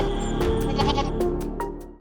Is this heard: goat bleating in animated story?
yes